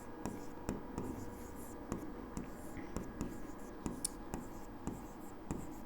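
Pen or chalk writing out a probability formula in a maths lesson, steady scratchy strokes with regular light taps, close and continuous, with faint background noise and no talking.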